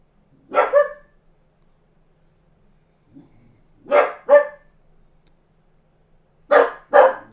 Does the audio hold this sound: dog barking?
yes